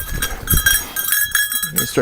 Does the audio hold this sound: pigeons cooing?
no